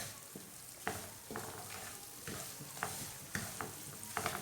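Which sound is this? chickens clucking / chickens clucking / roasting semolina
roasting semolina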